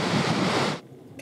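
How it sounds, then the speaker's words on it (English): Loud, roaring wind in Iceland buffets the microphone in a dense rush of noise, then abruptly drops away before gusting back up at the end. "Can you tell it's windy?"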